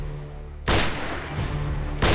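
Gunfire from a 3D animated depiction of a terrorist attack in Pahalgam, a low steady hum and then sudden loud bursts of shooting that roar on in sustained blasts.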